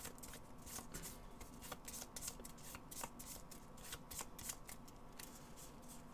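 A deck of Redemption game cards being shuffled by hand, rapid crisp riffling and snapping bursts in a continuous rhythm, close but fairly quiet, with no talk over it.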